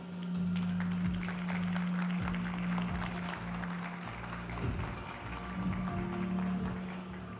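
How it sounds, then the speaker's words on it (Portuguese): An audience at a live talk on quant versus manual trading applauds steadily and softly, with a sustained wash of clapping over a low background hum. "receba aí com uma salva de palmas Rodrigo Malacarne"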